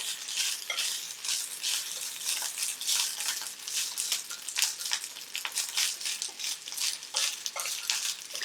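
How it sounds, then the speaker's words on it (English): Ginger crackles and spits in hot frying oil, a dense, steady sizzle with sharp pops scattered throughout, close and fairly loud with no talking. "All that ginger popping in the oil."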